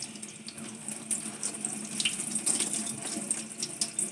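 A tap runs warm water steadily onto a towel in a sink, a close, even splashing hiss with small shifts as the towel moves under the stream.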